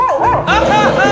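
Dog barking during a Marathi village comedy sketch: a short run of high, yelping barks rising and falling over a second, with people chattering underneath.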